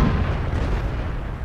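A tank cannon shot from the Object 704 in World of Tanks, a heavy low boom at the start that trails into sustained rumbling, loud and up close with no talk.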